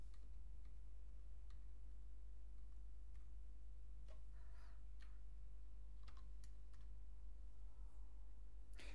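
Faint clicks of typing on a computer keyboard over a steady low electrical hum, with a handful of scattered keystrokes and short bursts rather than continuous rapid typing.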